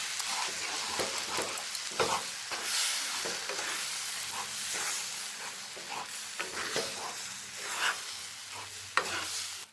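Semolina mixture with cashew and milk paste being stirred in a hot pan for a sweet, a steady close scraping and sizzling with irregular spoon strokes throughout, no voices.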